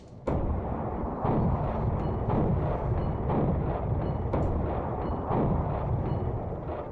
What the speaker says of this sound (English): here's the twin-linked flat cannon.